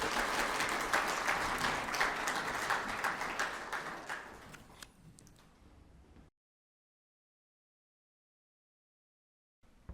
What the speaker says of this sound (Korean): 박수로 청해 주시면 고맙겠습니다